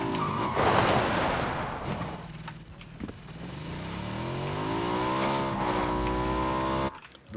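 A car engine in a video game revs and accelerates, the pitch climbing and shifting as it drives, loud and close with a faint squeal of tires and no speech over it.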